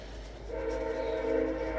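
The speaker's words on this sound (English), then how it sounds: "That's a train." A train passes at a distance, its low rumble rising and holding steady alongside a sustained horn-like tone, heard alone with no talk, near a garage where a 1958 Chevrolet Biscayne carburetor is being rebuilt.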